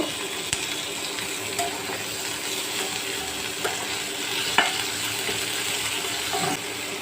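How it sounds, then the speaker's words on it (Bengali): Onion frying in a little oil for a prawn curry, a steady low sizzle with occasional soft clinks and scrapes of stirring, fairly quiet and even throughout. "পেঁয়াজটা কিছুক্ষণ ভেজে নেব"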